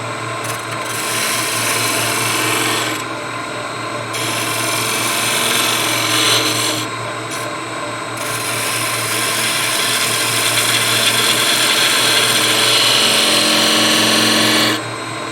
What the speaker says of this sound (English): When using the skew chisel to make a cut like this, do not hesitate.